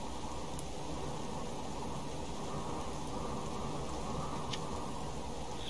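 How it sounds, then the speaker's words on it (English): Steady, dense hiss of rain falling without pause in the game Subsistence, even and moderately loud throughout, with a couple of faint ticks above it. "Toxic rain or something?"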